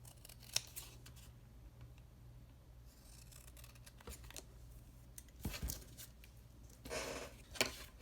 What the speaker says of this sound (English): I need to do it with the smaller scissors.